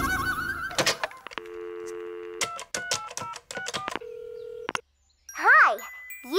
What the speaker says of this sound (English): Let us call Prima on the phone